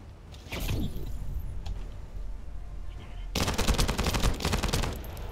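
Shotgun blasts in the sci-fi shooter The First Descendant, a burst of loud, dense gunfire roaring in the second half after quieter combat sounds and scattered shots, with no talk.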